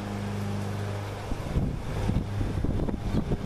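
Wind gusts past a WeatherFlow wind meter held outdoors, a steady breathy rush with buffeting microphone wind noise that grows rougher and more gusty partway through, with no talk.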